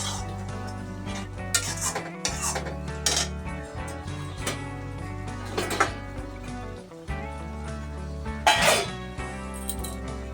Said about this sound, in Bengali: সুন্দর করে কিছুক্ষণ কষিয়ে নেব এভাবে